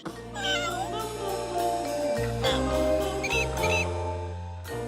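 A cat meows in a continuous, drawn-out wail lasting several seconds, loud and close, with its pitch bending up and down over a low steady hum.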